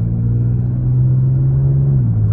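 A 2022 Genesis G70 3.3T accelerating in sport mode, a loud, deep, steady engine drone heard from inside the car, pitch rising slightly and then dipping near the end as it shifts.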